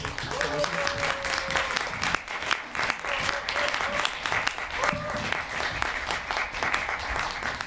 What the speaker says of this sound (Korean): 큰 박수 주시면 같이 모시겠습니다.